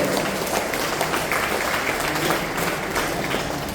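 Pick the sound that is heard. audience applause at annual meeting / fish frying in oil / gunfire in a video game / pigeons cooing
audience applause at annual meeting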